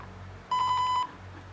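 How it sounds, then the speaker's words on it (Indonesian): A single steady electronic parking sensor buzzer beep from an ultrasonic smart parking system, about half a second long, sounding once over faint background hum. "Ketika dia telah memasuki 200, maka si buzzernya akan trigger bunyi seperti ini"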